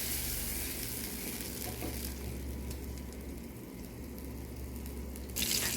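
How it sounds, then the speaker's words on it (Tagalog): Butter melting in a pan for shrimp and mushroom pasta, a continuous broad sizzle with faint clinks and a low steady hum underneath, with no talking. "Magtunaw tayo ng butter."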